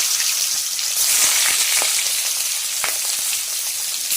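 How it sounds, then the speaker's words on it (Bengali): Pieces of steamed egg fry in hot oil, producing a close, continuous sizzle dotted with sharp pops and crackles, with no voices over it. "তেলের মধ্যে আস্তে আস্তে ডিম ভাপানোগুলো দিয়ে দেব। একটা একটা করে ডিম ভাপানো এর মধ্যে দিয়ে ভেজে নেব।"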